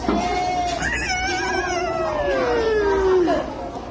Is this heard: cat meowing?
yes